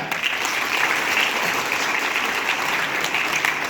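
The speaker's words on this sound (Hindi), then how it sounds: "एक बार जोर से तालियां।" A crowd applauds steadily, a dense even wash of clapping that holds at the same level from start to finish.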